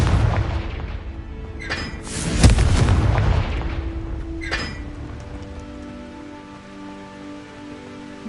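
Confringo spell cast in the Hogwarts Legacy video game bursts with a loud booming blast around two seconds in, a second sharper crack follows near four and a half seconds, then a low rumble fades under steady game ambience.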